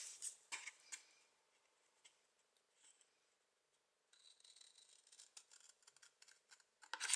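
Scissors snip through paper or card for a handmade correspondence box, crisp close cuts in short bursts with a quiet pause in the middle, then a longer run of steady snipping.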